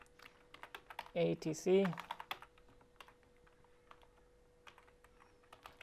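Terminal command typed on a computer keyboard: a run of quick, light key clicks at close range, broken by a brief burst of speech early on, then further scattered taps trailing off quietly.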